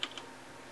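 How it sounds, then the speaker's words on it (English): A couple of quick, faint keystrokes on a computer keyboard while entering an address on a lighting console, followed by quiet room tone. "Then, I'm going to type in on the keyboard"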